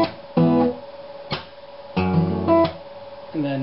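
An acoustic guitar plays a barred chord from a song, with the pinky fretting a note, strummed in several separate, ringing strokes across about four seconds.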